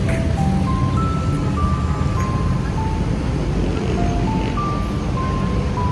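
Busy street traffic during the Christmas season in the Philippines: a steady, loud engine rumble with a melodic ice-cream-truck-style jingle repeating over it, and a voice heard faintly in the background.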